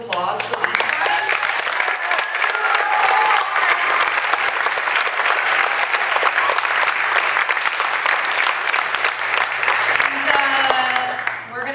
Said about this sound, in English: So another big round of applause for these guys.